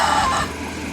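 Sonali super hybrid chickens about ninety days old, one bird giving a short, close, loud crowing call against steady farm background noise.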